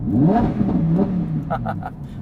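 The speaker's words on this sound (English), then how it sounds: "Now it's in sport mode, and as you can hear, it's a little bit more noise." A Lamborghini Huracán EVO engine in sport mode revs with a rising, throaty growl, then settles into a rougher, louder hum with brief clattering bursts near the end.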